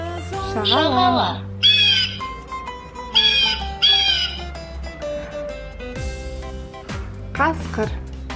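A children's toy plays a seagull call: loud, squawking, electronic-sounding cries in short repeated bursts over a steady toy hum, alongside other toy animal sounds.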